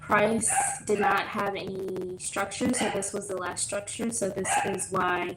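A dog barks several times in short yips and barks, fairly close, mixed in with a person talking steadily about forex charts in an indoor room.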